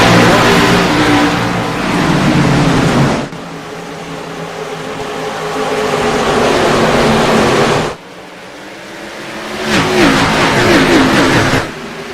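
Simulated race car engines roar loudly in an iRacing eNASCAR race at New Hampshire Motor Speedway, rising and falling in pitch as several cars pass in waves.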